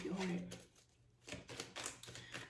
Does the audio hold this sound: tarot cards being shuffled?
yes